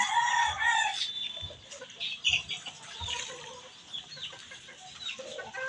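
Chickens clucking close by, a busy mix of overlapping clucks and higher squawks with soft pattering underneath, continuing throughout.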